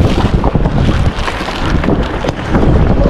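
A boat pushes through breaking waves, with heavy wind buffeting the microphone and surging water thumps rising and falling throughout, loud and close.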